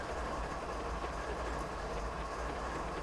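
A freight train running in the video game Train Simulator on Marias Pass, a continuous low rumbling roll of wheels on rails with a steady rhythmic clatter, close and unbroken.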